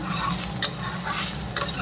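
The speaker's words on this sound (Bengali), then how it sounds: "আরও ভেজে নিই আর একটু।" Sliced bitter gourd frying in a pan with cumin and onion tempering, a steady close sizzle under spatula stirring with two sharp scrapes, no talk.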